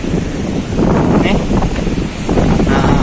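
Strong sea wind buffeting the microphone on a cliff path along the coast at Lhoong, a loud continuous roaring rush with gusty swells and no pause.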